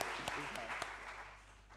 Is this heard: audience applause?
yes